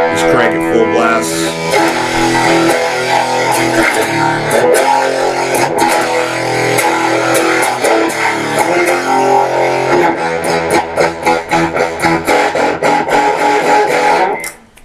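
Electric guitar through a Stiff Hippy II overdrive pedal cranked fully up, a loud, thick distorted wash of sustained chords that turns into choppier strummed hits near the end before cutting off.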